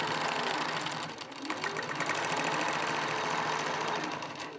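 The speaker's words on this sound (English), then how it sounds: "And then the machine's going to tie off and tell me that it's finished." An embroidery sewing machine stitches a motif in a fast, steady mechanical chatter close by, briefly easing for a moment before running on evenly without speech.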